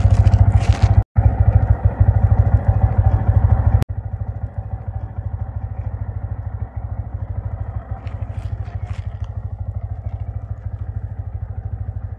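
A new motorcycle engine idles while warming up, putting out a steady close chugging rumble with a fast even beat that runs throughout, briefly interrupted by a cut near the start and a sharp click around four seconds.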